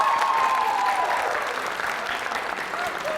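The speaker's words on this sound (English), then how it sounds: "Can we give them a round of applause?" An audience at a school cultural celebration event breaks into applause, dense clapping from many hands with a faint voice underneath, tapering slightly toward the end.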